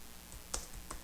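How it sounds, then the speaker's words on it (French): Keystrokes on a computer keyboard while typing a short layer title in Photoshop: a few quiet, separate clicks over about a second, one sharper tap in the middle, and no talking. "Je vais double-cliquer sur son titre pour taper point noir"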